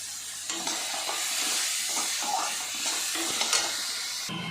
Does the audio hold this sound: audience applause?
no